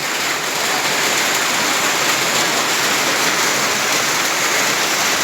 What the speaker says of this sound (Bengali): এই দেখো কি সুন্দর বৃষ্টিপাত গ্রাম বাংলার